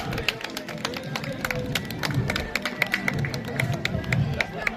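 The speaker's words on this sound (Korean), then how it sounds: "큰 박수로 맞이해 주시면 감사하겠습니다" Scattered clapping from a street crowd greets a Baekje-era local official procession at a cultural festival in Buyeo, with sparse, uneven claps and crowd murmur running under the applause.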